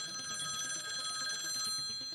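A telephone bell rings, a steady bright metallic trill that runs without a break for about two seconds, fairly faint and alone with no talking.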